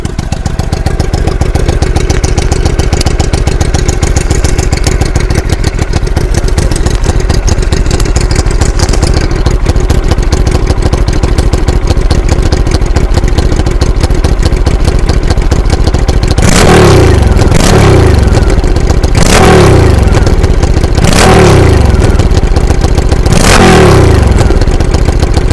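A Napoleon Bob 250 motorcycle engine idles loud and close with a steady throb. After about sixteen seconds it gives five sharp revs, each rising quickly and then falling back to idle. No voices are heard.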